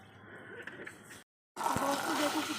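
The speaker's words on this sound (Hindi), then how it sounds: "देख लो हम किस तरीके से गेहूँ धो रहे हैं" Wheat grains being washed by hand in water, with broadband sloshing and splashing that cuts off for a brief silent gap, then resumes louder and closer.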